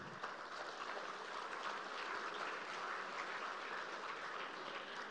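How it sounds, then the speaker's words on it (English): Audience applause at a live-streamed gathering, a steady, even wash of many hands clapping, somewhat distant and muted, lasting several seconds without voices. "Can we have a wonderful round of applause"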